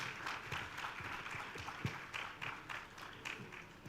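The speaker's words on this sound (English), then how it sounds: "One more time, our convener, a round of applause." Summit audience gives a round of applause for the convener, steady distant clapping from a crowd in a hall, fairly faint and even throughout.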